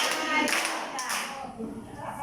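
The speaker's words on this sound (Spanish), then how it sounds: "lo vamos a decir con aplausos." An audience of women claps together during a talk on violence against women at a foundation. The clapping is busy and close and sits under some speech and light taps.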